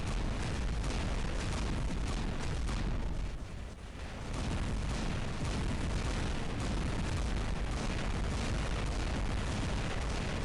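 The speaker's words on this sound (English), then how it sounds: "So you see how this guy's firing through my shield." Robot weapons fire and explosions in War Robots make a dense, continuous barrage of booms and gunfire that thins briefly before resuming at full loudness, with no voices.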